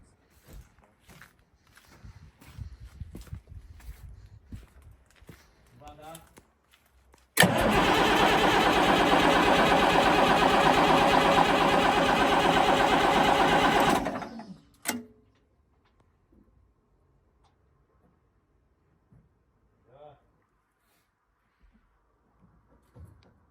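A Cummins 8.3 diesel in a Fiat-Hitachi W170 loader cranks and fires on its first start, running loud and rough for about seven seconds before cutting off, with scattered clanks and quiet sounds before and after.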